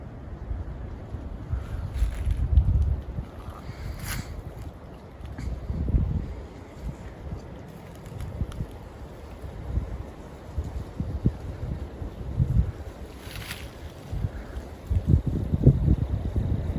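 Strong wind gusts outdoors at night in a wooded area, buffeting the microphone in uneven rumbling surges that rise and fall throughout, with no talk.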